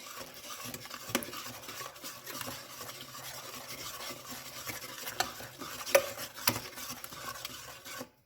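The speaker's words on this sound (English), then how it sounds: "Now we're just gonna stir that in. So we want to try and break the eggs to stir it in." Eggs are stirred into brownie batter in a bowl, giving a soft continuous scraping and mixing sound with occasional light clinks of the utensil against the bowl, close and quiet.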